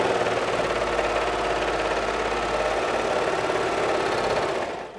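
A domestic sewing machine runs steadily, stitching a long neckband seam with a half-inch allowance on a cozy wrap garment; the close, even motor whir holds for about five seconds and then stops abruptly.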